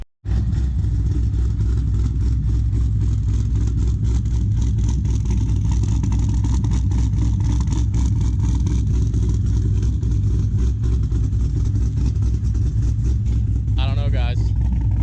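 C5 Corvette with a cam and a 100-shot nitrous setup, its engine droning loud and steady up close for a long stretch with a choppy lumpy idle texture, a brief warbling chirp near the end.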